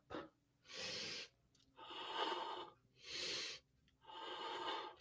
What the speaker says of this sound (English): That is such heavy breathing you got going on there